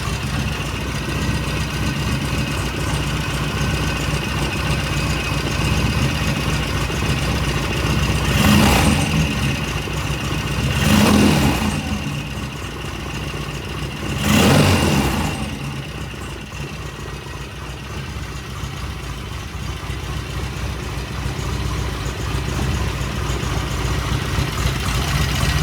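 An engine on its first start settles into a steady idle around 900 RPM, a constant low rumble close by, with three brief louder surges spaced a few seconds apart.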